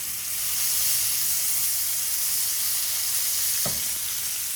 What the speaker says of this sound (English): now we're just gonna go ahead and place our two patties in the pan